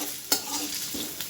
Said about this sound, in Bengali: তো পেঁয়াজটা হচ্ছে একটু ভাজা ভাজা করে নেব।